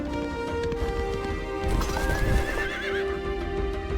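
Horses charging in the fantasy strategy game Age of Wonders II, with galloping hooves and a whinny over a steady game music bed, clear and fairly loud.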